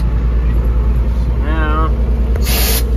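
A truck's dump bed rising under hydraulic power while the rig is set up for hauling hay, a loud steady engine drone throughout with a brief voice and a short hiss near the end.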